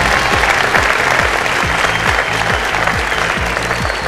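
Studio audience applause on a Bhojpuri TV quiz show, loud and continuous, layered over a rhythmic thumping beat of booming drum hits that repeat roughly every half second.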